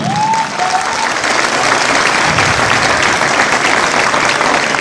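Loud, sustained applause from a large audience at a business-building seminar in Mayaganj, a dense wash of clapping that stays steady for about five seconds, with a brief tonal whistle-like sound near the start.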